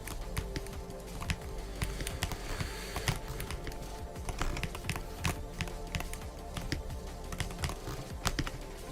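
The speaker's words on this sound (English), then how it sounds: "I will throw my keyboard out the window if I don't stop clicking when I'm not supposed to click" Rapid computer keyboard clicks during a video game stream, dense irregular taps running steadily throughout, fairly close, with game sounds underneath.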